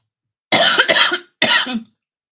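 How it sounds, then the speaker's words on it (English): Two harsh, close coughs from one person, the first longer and rasping, the second shorter after a brief pause. "Sorry, coughing."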